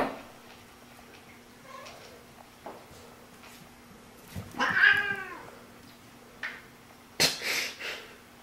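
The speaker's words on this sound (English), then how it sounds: "Dumb cats." A cat meows loudly and close by once midway, with a shorter sharp meow near the end, amid quiet room sounds and faint sniffing.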